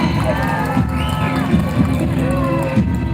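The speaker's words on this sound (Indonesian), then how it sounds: "Luar biasa, berikan tepuk tangan yang paling meriah" Festival crowd at Sekala Bekhak 8 in Lampung Barat roars and cheers loudly and continuously, with shouting voices and sustained tonal sounds riding over a thick, booming wash of noise.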